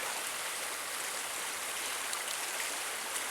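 River water pours over shallow falls in a continuous, even rushing hiss, soft and steady without pauses or voices.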